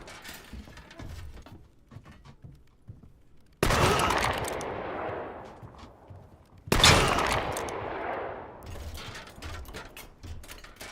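Ship cannons fire in a sand raider video game, two loud booming blasts a few seconds apart, each decaying into a long rumbling tail, over quieter mechanical clanks and creaks.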